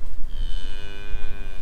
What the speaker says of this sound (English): Here are the heifers.